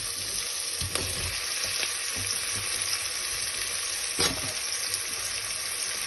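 Potatoes frying in olive oil in a pan with salt, a loud continuous sizzle and crackle, close by, with a few faint stirring knocks.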